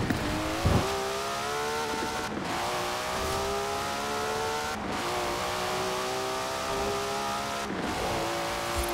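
A drag-tuned car in Forza Horizon 4 revs hard through its gears, the engine note climbing repeatedly and cutting sharply at each of several shifts, loud and close with faint tire noise and no talk.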